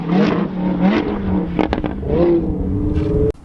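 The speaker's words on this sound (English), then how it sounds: "these guys are absolutely crazy out here, just burning tires" Cars at a track day burning tires, with loud, close engine revs that rise and fall, a brief crackle burst midway and a sudden cutoff at the end.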